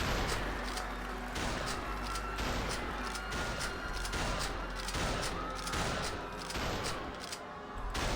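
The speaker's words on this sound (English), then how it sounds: "we're gonna shoot some guys" Gunfire in the video game Who Wants to Be a Murderer, a dense loud barrage of shots and impacts that runs across the whole stretch with hardly a pause.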